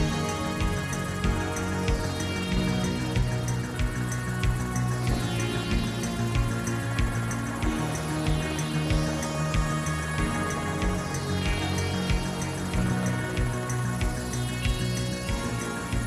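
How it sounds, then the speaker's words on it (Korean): Akaka Falls waterfall in Hawaii, over 100 m tall, a dense steady rushing roar of falling water filling the whole stretch, constant and loud with no voices. "바로 아카카 폭포다."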